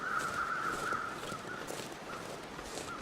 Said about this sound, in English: Okay, I hear crows, look up, see crows.